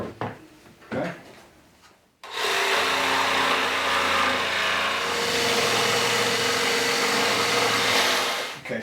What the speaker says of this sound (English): we're just gonna use the jigsaw with a wood blade in there